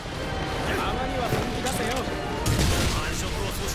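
Heavy machine gun fire in Earth Defense Force 5 roars as a dense, continuous burst with booming impacts mixed in, loud and steady, with a voice talking over parts of it.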